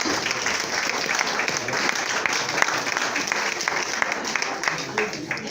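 A church congregation applauds during a sermon, a dense and steady wash of clapping that fills the whole stretch, with voices mixed in beneath it.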